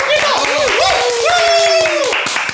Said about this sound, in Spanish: Un aplauso para Luca.